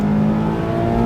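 A 2024 Mazda MX-5 Miata ND3 roadster accelerates hard at full throttle, its engine note a loud, steady droning hum climbing close to the microphone, with no talking over it.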